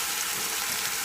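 Pork roast searing in lard in an Instant Pot, giving off a loud, steady, hissing sizzle that holds even throughout a brief moment with no voices.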